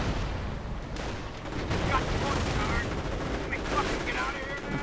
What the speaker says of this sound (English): More rocket fire.